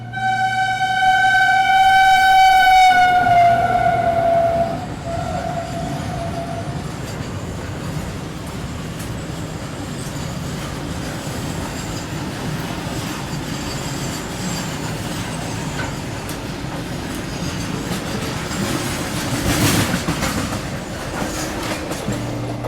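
Goods trains pass through Bhatapara railway station: a loud horn blast opens, followed by a long steady rumble and clatter of wagons rolling by, with a brief screech later on.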